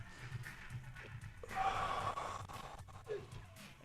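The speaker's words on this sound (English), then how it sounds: "Just one big deep breath" One big, deep breath in the cool-down of a strength endurance exercise class: a soft, airy inhale swells, then fades, quiet and close.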